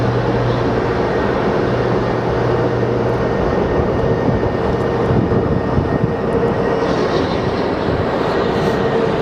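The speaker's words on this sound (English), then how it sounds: "We do have a tiny plane on the Bravo transition" A steady, loud engine drone with a broad rushing roar that holds throughout, a small propeller plane passing close overhead at Phoenix Sky Harbor International Airport.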